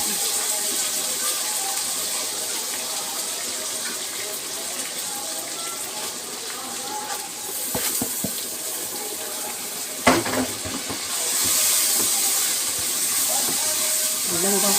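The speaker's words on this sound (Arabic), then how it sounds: "قدامي بقى حاطه الميه بتغلي اهي" Water boils in a pot on a kitchen stove with a steady, dense bubbling hiss, broken by a single clink of metal partway through before the boil surges slightly louder.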